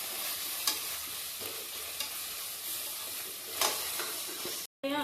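Ginger garlic paste fries with browned onions, sizzling steadily in the pan while a spoon scrapes through it in a few stirring strokes, broken by a brief dropout near the end.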